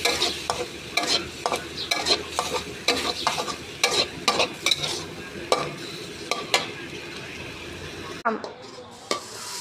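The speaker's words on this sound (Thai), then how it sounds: "ผัดให้ง่วนน้ำหน่อยนะคะ เพราะว่าปลากระป๋องเขาสุกอยู่แล้วค่ะ แต่เราก็ต้องเอามาผัดอีกรอบนึงนะคะ" Canned fish being stir-fried with holy basil in a pan, a steady sizzle broken by repeated sharp scrapes and clanks of the spatula against the pan. The sizzle goes quiet near the end.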